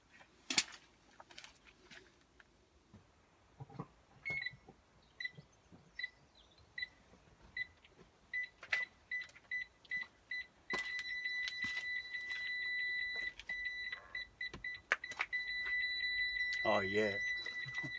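Aftermarket reverse parking sensor kit on a Citroen C1 beeping in a steady series of short electronic pips that speed into a near-continuous tone as something gets close, with scattered knocks and faint background noise.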